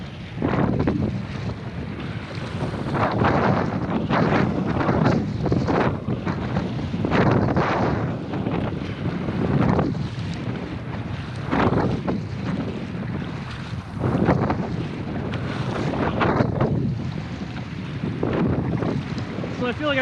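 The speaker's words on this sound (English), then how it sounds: "just fighting that wind and the waves" Strong wind buffets the microphone while waves slap and splash around a Pungo 140 kayak being paddled on open water, with recurring surges of spray and rushing water over a constant roar.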